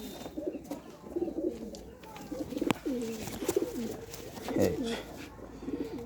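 Pet pigeons coo in soft, repeated rolling calls close by, overlapping one another amid light rustling, with a brief word spoken in the background.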